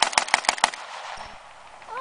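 A short burst of four rapid shots from a WW2 automatic rifle at a living history event, loud and sharp, followed by fading echo and ambient noise.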